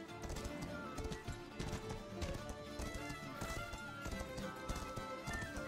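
Horse in the video game Mordhau, galloping with rapid dense hoofbeats throughout, mixed with occasional neighs and game clatter, loud and continuous without gaps.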